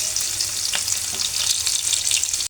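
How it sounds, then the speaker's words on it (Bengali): Chopped onion and green chilli frying in hot oil that has just been used to fry chicken, a steady, close, loud sizzling hiss with faint stirring, no talk. "আমি এখন ওই তেলের মধ্যে দিয়ে দেব পেঁয়াজ কুচি, কাঁচামরিচ।"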